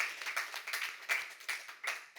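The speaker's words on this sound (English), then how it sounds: "I think that deserves a round of applause" Audience applause at a panel discussion on inclusion in the visual arts, a short burst of clapping from a seated crowd that swells in waves and holds steady for a couple of seconds.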